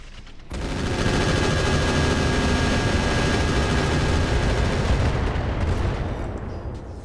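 Battlemech weapons fire in the Roguetech game, a dense, loud, sustained barrage of rapid gunfire and explosions lasting several seconds before fading out.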